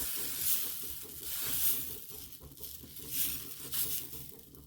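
Thin rice-flour batter for gola ruti spread on the sides of a hot kadai gives a faint, crackling sizzle with soft pattering swells, quiet and close, no voices.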